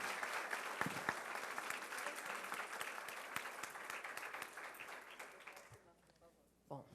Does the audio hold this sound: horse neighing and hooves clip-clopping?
no